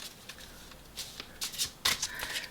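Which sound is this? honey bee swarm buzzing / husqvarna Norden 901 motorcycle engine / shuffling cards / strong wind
shuffling cards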